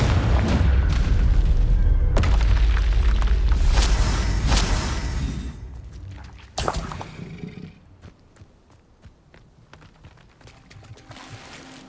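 Confringo blasting spell explosions in the Hogwarts Legacy video game: loud, heavy booming bursts in the first few seconds, a sharp blast near the middle, then a fading rumble with scattered crackles.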